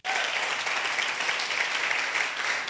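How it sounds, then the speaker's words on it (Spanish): A church congregation claps loudly during a sermon service, a thick, steady wall of applause that starts abruptly and holds evenly for the whole stretch, with no voices over it. "Vamos a darle un fuerte aplauso al Señor."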